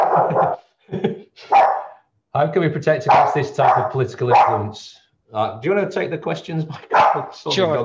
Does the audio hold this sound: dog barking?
yes